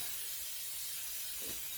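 Pam cooking spray being sprayed in a home kitchen while making a potato quiche, a steady close hiss lasting nearly two seconds.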